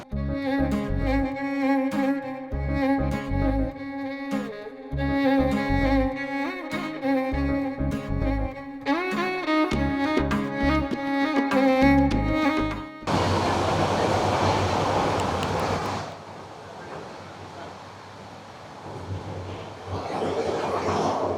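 Passenger train on the Dhaka to Cox's Bazar route, the Parjatan Express: music plays for the first half, then a loud, steady broadband rumble of the moving carriage fills the rest.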